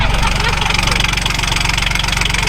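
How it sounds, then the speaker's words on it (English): A little John Deere three-cylinder diesel powers a small hot rod, running at a steady, throbbing idle-like pace with a pulsing low beat throughout, close and loud. "That's a John Deere diesel engine."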